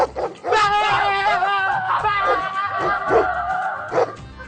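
A dog in a Pakistani comedy drama barks and yelps loudly and close, with drawn-out whining cries running through most of the stretch.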